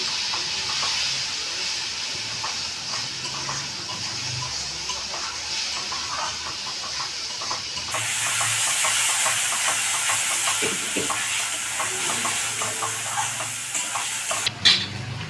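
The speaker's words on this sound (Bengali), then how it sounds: "মশলাটা অল্প কষে নিয়েছি" Spice masala of salt, turmeric and chilli powders fries in a pan for a cauliflower roast, giving a steady close sizzle and hiss with a few faint clinks, growing louder partway through.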